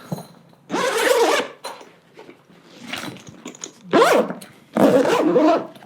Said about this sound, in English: Zipper that up.